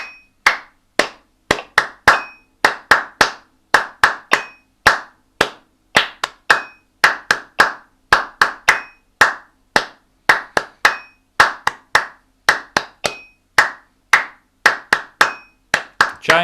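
Sharp hand claps in a steady even rhythm during a musical warm-up session in C major, loud and close, repeating dozens of times with brief gaps between groups and no voices.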